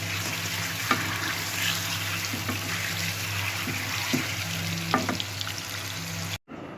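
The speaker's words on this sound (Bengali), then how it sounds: "আমার তো এখন ডিম ভাজা চলছে" Eggs sizzle in a pan with a soft, moderate frying hiss. A few light clinks and scrapes come through, and the sound cuts off abruptly near the end. No talk.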